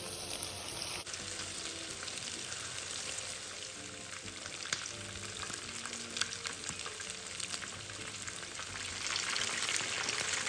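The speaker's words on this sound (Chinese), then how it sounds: "以相同步骤将剩余鸡肉油炸完毕。" Chicken pieces deep-fry in hot oil for an orange salad chicken dish, giving a steady, dense sizzle and bubbling that runs throughout at close range and grows slightly louder near the end, with no voices.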